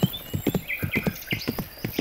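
Horse hooves clip-clopping in the video game Riding Star, a quick, even rhythm of crisp hoof knocks with bright game chimes in the background, and no speech.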